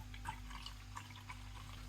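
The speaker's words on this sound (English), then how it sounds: "So, let's give this a pour." Siren Craft Brew beer, a clear golden brew, being poured from a freshly opened container into a glass, a soft, low liquid trickle and gurgle heard close by with no talking.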